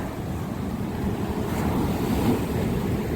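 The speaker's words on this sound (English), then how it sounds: "Let's watch them waves coming through." Ocean waves roll in at a Tasmanian beach in winter, a steady wash of surf with wind buffeting the microphone, the swell building slightly toward the end.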